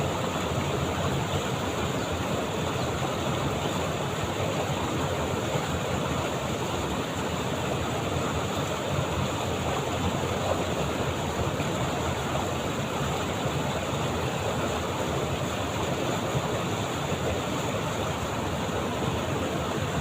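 A clean village stream flowing in the countryside, a steady broadband rush of water that stays constant and close throughout with no voices.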